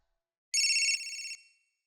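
A single electronic phone ringtone plays one short, bright, melodic burst of about a second, loud and close, then stops in quiet.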